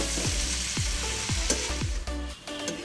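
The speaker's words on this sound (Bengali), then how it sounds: "বাটারটা আমার গলে গেছে, এবার মাশরুমগুলো দিয়ে ফ্রাই করে তুলে নেব।" Mushrooms fry in melted butter, a steady sizzle with quick repeated stirring scrapes of a spoon against the pan, close and without speech.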